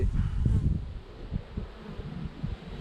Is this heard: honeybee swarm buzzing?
yes